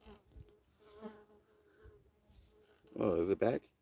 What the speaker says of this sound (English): In any case, I think it was just a fly.